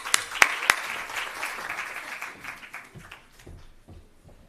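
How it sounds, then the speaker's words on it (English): Audience at a rural investment summit applauding after an introduction, a few sharp claps at first, then a spread of clapping that fades away over a few seconds. "Let's give her a big round of applause."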